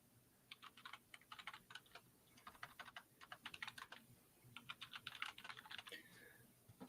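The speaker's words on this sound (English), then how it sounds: "Sounds like you're typing really fast. You just hit a bunch of buttons." Fast typing on a computer keyboard, rapid bursts of clicking keystrokes with short pauses between runs, quiet and close, with no voices.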